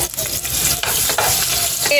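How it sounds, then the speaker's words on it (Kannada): Chopped onions fry in oil in a pan, giving off a loud, dense sizzle. Scraping stirs punctuate it at irregular intervals. "ಒಂದ್ ಸ್ವಲ್ಪ ಮತ್ತೆ ಎಣ್ಣೆ ಇಟ್ಬಿಟ್ಟು ಅದಕ್ಕೆ ನಾನು ಇವಾಗ ಒಂದ್ ಸ್ವಲ್ಪ ಆನಿಯನ್ ಹಾಕ್ತಾ ಇದ್ದೀನಿ ಫ್ರೈ ಮಾಡಕ್ಕೆ"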